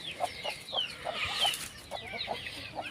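Chickens clucking in a poultry shed, many birds giving short repeated clucks and calls at close range in a steady busy chorus.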